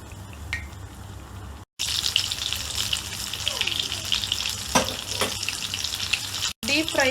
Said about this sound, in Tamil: டீப் ஃப்ரை ஆகுறது வரைக்கும் நம்ம அதை ஃப்ரை பண்ணணும்.